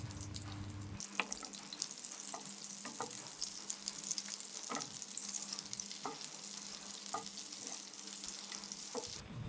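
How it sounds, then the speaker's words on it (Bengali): Butter melts and sizzles in a frying pan with a faint, steady crackle, dotted with occasional light ticks and scrapes of a utensil. "প্যানে বাটার দিয়ে দেব।"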